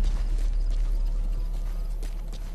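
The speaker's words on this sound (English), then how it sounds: "Where's my horse?" A horse in Metal Gear Solid 5 gallops near, its hooves clip-clopping in a quick rhythm, with a brief neigh breaking through over a deep rumbling game background.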